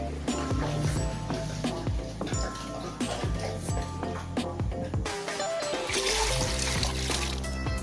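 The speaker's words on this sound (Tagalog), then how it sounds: "Lagyan natin ng tubig." Water runs and trickles into a cooking pot holding a washed pork leg being readied for boiling, with clinks of metal and kitchen clatter layered over the pouring and a voice briefly present.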